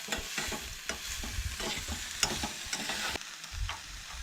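A spoon stirs onion, tomato and ginger-garlic paste as they fry in a pan, with repeated scraping strokes over a steady close sizzle and no talk.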